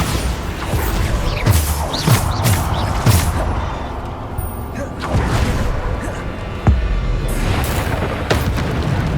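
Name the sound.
Bombarda explosion spell in Hogwarts Legacy video game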